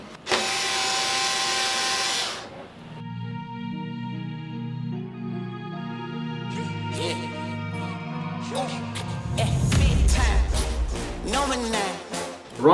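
A power screwdriver backing screws out of a Traxxas X-Maxx RC truck's roll cage, loud whirring bursts that rise and fall in pitch with mechanical rattling and clicks between, close to the microphone.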